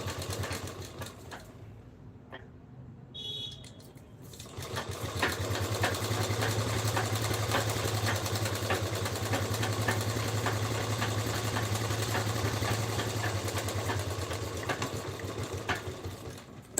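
A sewing machine stitching a small dress runs in a fast, even mechanical whir after a brief quieter start, holding steady and loud for about ten seconds before slowing near the end.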